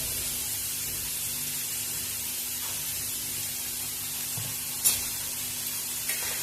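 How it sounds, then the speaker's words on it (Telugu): Tomatoes fry in a pan with onions for onion tomato rice, holding a soft, constant sizzle that is broken by two brief sharper clicks of stirring near the end. "కాస్త టమాటాలు మెత్తపడే వరకు ఫ్రై చేసుకోవాలి."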